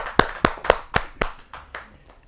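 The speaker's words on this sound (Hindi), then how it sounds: "जोरदार ताली के साथ स्वागत करें डॉक्टर जेपी पांडे जी का" A small audience at a televised kavi sammelan claps to welcome a poet, giving about eight crisp, evenly spaced claps that start strong and fade away over a couple of seconds.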